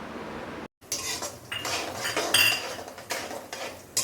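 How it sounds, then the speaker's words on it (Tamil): Walnuts are tipped into a pan and stirred while the nuts dry-roast, giving a close, steady run of clattering and scraping with metallic clinks and a short pause near the start. "வால்நட்டையும் போட்டுடலாம்."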